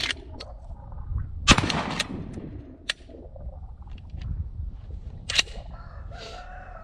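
A Remington 870 pump shotgun fitted with new Magpul furniture fires at an outdoor range. Several sharp, loud blasts ring out at irregular intervals, with lighter clicks and clatter between them and no talking.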